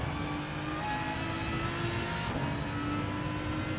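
A race car engine in the video game Gran Turismo 7 holds a steady, fairly quiet whirring drone with a slight shift partway through and no talk.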